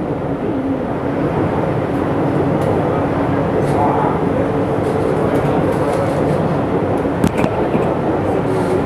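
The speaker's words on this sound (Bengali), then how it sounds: "এটা ট্রেন ক্রস করছে এয়ারপোর্ট থেকে, এটা সম্ভবত হাওড়ার দিকে যাবে।" A Kolkata metro train passes by on the line from the airport toward Howrah, a steady broadband rumble heard from inside a moving metro car, continuous throughout with a brief sharper clank near the end.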